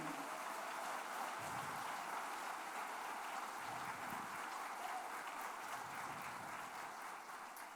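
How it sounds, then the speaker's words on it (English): Faint, steady clapping from a gathered audience at a community action meeting fills the space as a continuous distant patter, with no one speaking over it. "Would you clap your hands to get this stuff done?"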